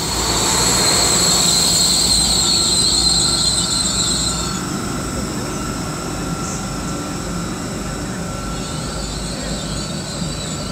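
A British Rail Class 800 passenger train idles at a platform at Worcester Foregate Street with a steady mechanical hum and a high whine that fades and returns, loud and continuous with no voices.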